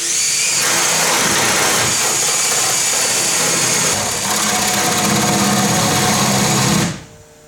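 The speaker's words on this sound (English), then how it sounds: "I'm going to drill through the door until the tip of the drill bit comes out the other" A power drill whines at high speed nearby, grinding steadily through an interior door for several seconds before cutting off abruptly.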